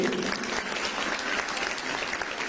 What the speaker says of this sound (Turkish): Alkışın bir güzeli de oraya gelsin tabii ki.